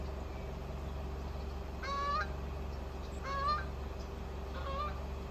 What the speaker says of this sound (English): A geese or a goose.